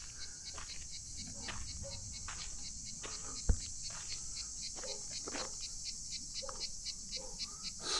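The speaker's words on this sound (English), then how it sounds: "madness-inducing cicadas" Cicadas in pine trees on Skiathos, a steady high-pitched buzzing chorus that runs throughout at low level, with faint rustles and a single sharp knock, quiet voices in the background.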